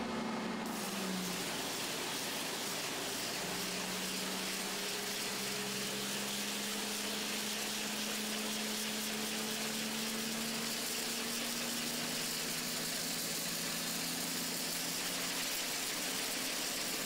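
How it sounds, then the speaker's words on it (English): Hammelmann high-pressure water pump running at a live demonstration: a loud, steady broadband roar and hiss throughout, with a tonal whine that slowly rises in pitch, and no talk. "the operator has full control over the pump there"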